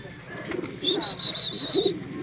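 Pigeons cooing close by in a short burst of soft, low, rolling coos, with a brief higher note over them and no talking.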